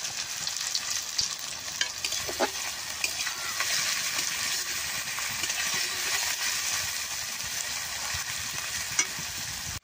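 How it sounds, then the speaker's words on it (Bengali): Onion, garlic, green chilli and ginger fry in a pan, giving a steady sizzle with scraping stirring strokes and occasional clinks throughout. "পেঁয়াজ, রসুন, কাঁচামরিচ, আদা বেশ সুন্দর করে ভাজা নেব"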